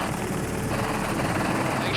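A helicopter's engine and rotor roar loudly and continuously at close range during a wildlife operation in Kenya, a dense, steady whine and thrum filling the whole clip.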